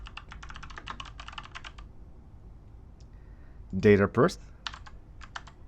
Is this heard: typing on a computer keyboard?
yes